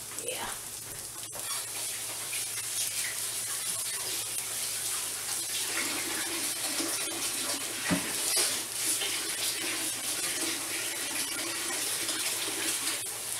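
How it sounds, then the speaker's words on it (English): Tap water runs steadily into a sink while hands are washed, a continuous gentle hiss with a small knock partway through. "I'm gonna wash my hands."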